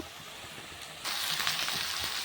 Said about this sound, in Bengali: এই যে আমি পেঁয়াজগুলো দিয়ে দিলাম একটু ভাজা ভাজা করব